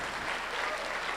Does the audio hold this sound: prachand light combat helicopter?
no